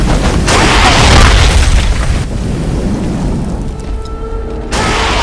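A loud grenade blast in a shooter video game: a heavy boom with a rumbling tail, then a second burst of noise near the end, with no talk.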